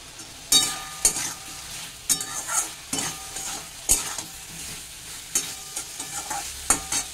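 Taro (arbi) curry with spices being stirred and sautéed in a pan, soft sizzling under repeated scraping strokes of a spatula against the metal, irregular stirring bursts close by.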